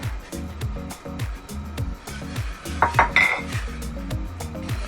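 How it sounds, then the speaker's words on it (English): A whisk clatters steadily against a metal pot as cheddar and Gouda are worked into milk for stovetop three-cheese mac and cheese, a close, continuous scraping and tapping with a rhythmic pulse underneath. "we'll whisk in our cheddar and our Gouda."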